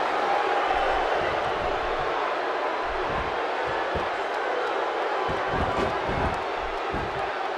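A wrestling arena crowd in the WWE 2K16 video game makes a continuous dense roar throughout, with some low thumps underneath.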